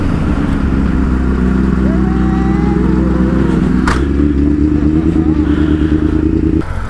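A Kawasaki ZX10R superbike engine runs loudly and steadily close by, a continuous droning rumble that holds from start to finish, with a brief sharp clatter in the middle.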